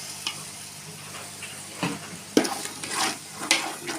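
Yogurt goes into a sizzling biryani masala for a hotel-style chicken biryani and gets stirred through. Soft frying sizzle runs throughout, with several scraping stirs of a spoon against the pan.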